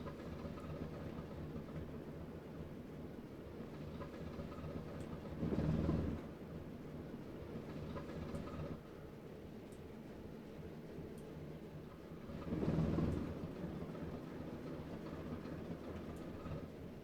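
A train in Train Sim World 3 on the Arosa Line rolls back to couple with its carriages, a low continuous rumble with two brief louder swells of rolling rail noise, and no speech.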